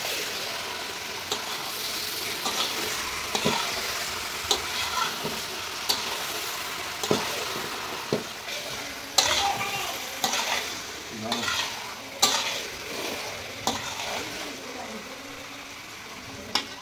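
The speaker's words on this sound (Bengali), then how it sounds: "মাংসগুলো দিয়ে ভালো মতন এখন কিন্তু কষাতে হবে" A large batch of chicken curry meat being stirred and fried with spices, a continuous close sizzle punctuated by frequent sharp clacks and scrapes of a spoon against the pot in an uneven rhythm.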